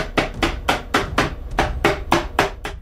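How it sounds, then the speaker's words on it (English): A mallet taps wooden box panels together after glue-up, about ten evenly spaced, fairly loud knocks in a steady rhythm, close by and with no talking. "With my mallet, I put all the panels together."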